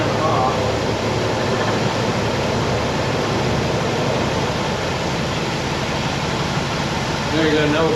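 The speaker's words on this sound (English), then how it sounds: "let's listen to the engine now with the fan off" A 1960 Pontiac Bonneville engine idles steadily at about 700 rpm with the cooling fan switched off, giving a continuous, even mid-pitched hum and low rumble throughout.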